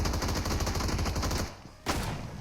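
Dense automatic gunfire in PUBG Mobile's hide-and-seek mode, a rapid steady burst of loud shots that stops abruptly, followed after a short gap by another blast and its decaying echo.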